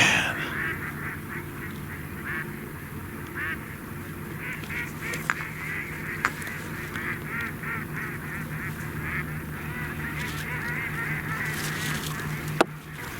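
A large flock of mallard ducks on water as ice comes off, a dense, continuous chorus of quacks and honking calls that stays loud and steady throughout with no talk.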